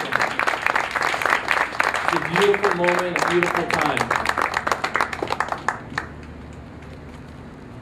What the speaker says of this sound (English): family and friends, why don't we give her a round of applause?